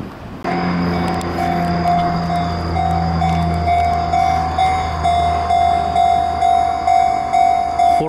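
A loud Kintetsu train rumbles past close by at a level crossing in Japan, with the crossing's steady high warning tone ringing throughout, the rumble pulsing rhythmically toward the end.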